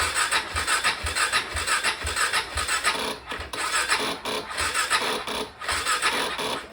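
A KTM motorcycle with a low battery being cranked, its starter whirring and grinding in a steady repeated rhythm without the engine catching, close and fairly loud.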